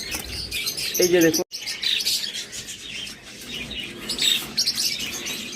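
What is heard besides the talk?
caged pet birds chirping (pairs for sale)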